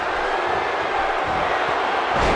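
Crowd noise from a WWE 2K16 wrestling video game match between Billy Gunn and Ric Flair, a loud, steady arena roar of cheering that holds throughout with no talk.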